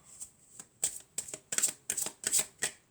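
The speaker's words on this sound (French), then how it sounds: "On va mélanger encore un peu." Tarot cards being shuffled by hand, a series of about nine crisp riffling flicks in quick succession, close and moderately loud, with no talking.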